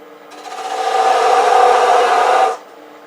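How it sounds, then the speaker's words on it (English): A 1/16 inch thin parting tool cuts a thread relief gap in wood spinning on a lathe, making one steady close hissing scrape of about two seconds that starts and stops abruptly. "The simplest way is to use a 1/16 inch thin parting tool like this."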